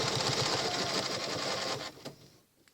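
A sewing machine stitches a Baptist Fan quilting pattern, its needle running in a fast, steady rhythm for nearly two seconds before slowing and stopping, with a few faint clicks trailing after.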